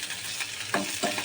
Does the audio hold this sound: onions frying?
yes